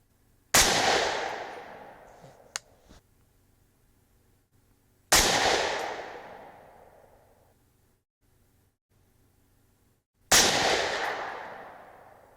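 Three loud .308 Winchester rifle shots are fired at a target group on a range, each a sharp crack with a long decaying echo, spaced about five seconds apart. A small metallic click falls between the first two shots.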